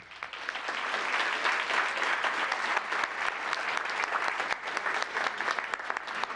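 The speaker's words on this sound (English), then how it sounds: "Maybe so another big round of applause for group one." A crowd at a town council meeting gives a sustained round of applause for group one, many hands clapping together in a steady, even wash with a few louder claps standing out near the end.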